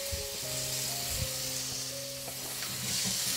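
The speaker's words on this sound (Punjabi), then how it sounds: "ਉਦੋਂ ਆਪਾਂ ਇਹਦੇ ਵਿੱਚ ਪਾਵਾਂਗੇ ਆ ਪੇਸਟ ਕੀਤੇ ਹੋਏ ਮੀਡੀਅਮ ਸਾਈਜ਼ ਦੇ 3 ਟਮਾਟਰ" Three medium tomatoes, pureed into a paste, go into a pan of browned frying onion, ginger and garlic for a tinda curry, bringing a loud, continuous sizzle with a few stirring clinks up close.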